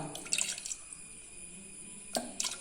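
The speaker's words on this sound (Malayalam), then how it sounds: "ഒരു 1/4 കപ്പ് വെള്ളം ഒഴിച്ചിട്ടുള്ളൂ." Water pours into a pressure cooker of salted squid being cooked with pepper, as a few brief splashing and dripping bursts that sound close but fairly quiet, with no talking.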